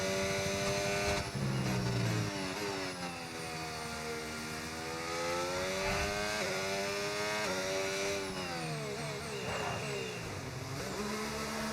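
F1 race car engine in the video game F1 25, a loud, high, buzzing whine that climbs and falls through the gears with several sharp upshifts, running continuously throughout.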